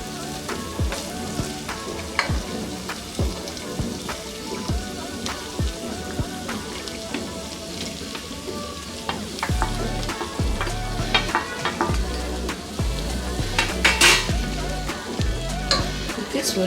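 Rice being stirred into spinach gravy in a pan on a low flame, a steady close sizzle with scraping, clattering stirring strokes throughout, with no talking.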